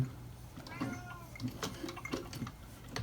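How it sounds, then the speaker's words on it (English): A cat meows several times in short, soft calls, faint and somewhat distant, over low background noise in a leatherworking room. "Kitty cat's talking to Mama."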